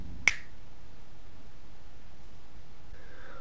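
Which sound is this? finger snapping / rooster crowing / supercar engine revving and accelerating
finger snapping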